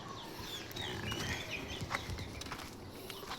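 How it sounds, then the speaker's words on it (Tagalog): Chickens cluck and a rooster calls in a school vegetable garden, soft scattered calls over a faint outdoor background, with no talking. "Ayan mga chicken, mga manok."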